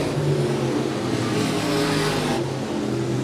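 Race cars in a heat race at Monett Motor Speedway roar into turns one and two, a dense, loud, steady engine drone with layered pitches from several cars running together close by.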